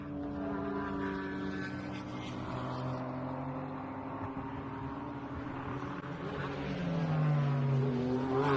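Pilot Challenge race cars at Laguna Seca sweep through the high-speed final corners, a steady engine drone whose pitch shifts as they go and swells louder in the last moments.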